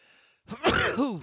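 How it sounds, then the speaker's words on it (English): A single sharp sneeze bursts out close by after a brief silence, followed by a short breathy vocal trailing off. "Excuse me, I was trying to get a Kleenex before I sneezed."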